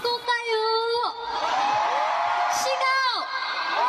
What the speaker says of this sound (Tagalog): mas dumagungdong ang arena nang magtagalog na ang ilang miyembro